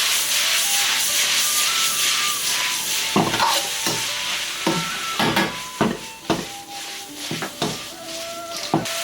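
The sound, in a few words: stir-frying squid tentacles with peppers and onion over high heat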